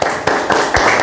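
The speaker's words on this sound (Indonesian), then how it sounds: "Kita tepuk tangan dulu." Students in a classroom applaud after a group presentation, a short, dense burst of many hands clapping at close range, with a few louder accents.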